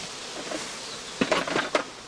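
Honeybees being shaken out of a straw skep at a heather apiary, giving a steady diffuse hum that breaks into a few sharp rustling bursts near the end.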